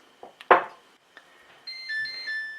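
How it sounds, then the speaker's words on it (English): A couple of soft clunks, then a steady electronic alarm of high beeping tones sounds clearly from a nearby waffle maker signalling it is ready. "So an alarm is sounding"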